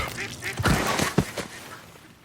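Ducks quacking in a hunt sound effect, a few loud, raspy quacks close together near the middle, tapering into quieter ambience.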